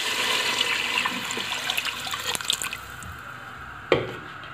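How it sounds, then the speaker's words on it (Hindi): Water pours steadily into a pot of browned mutton for a few seconds, splashing and gurgling nearby, followed by a short clunk as the pressure cooker is closed, then quiet. "अब मैं इसमें पानी ऐड कर रही हूँ"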